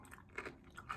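Someone bites and chews a Van Holten's garlic pickle close up, giving a few soft, moist crunches in quick succession, faint and with no talking.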